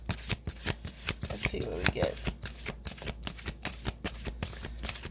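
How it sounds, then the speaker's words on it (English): Rapid, rhythmic riffling of playing cards as a deck is shuffled, close up, with a person speaking briefly over it. "One more shuffle, let's see."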